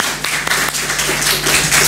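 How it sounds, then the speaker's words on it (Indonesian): Applause from a school audience at an OSIS student council candidate debate at SMK Sandikta, greeting candidate pair number one: a dense, steady patter of many hands for two seconds over a low electrical hum. "Tepuk tangannya dong untuk paslon nomor 1."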